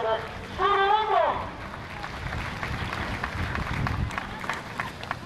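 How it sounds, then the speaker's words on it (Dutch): Crowd applause for the winner of a grasstrack motorcycle race at Stadskanaal: a steady, fairly distant patter of clapping that follows a brief burst of amplified voice and continues on its own. "geef hem nog 1 keer een applaus, dames en heren"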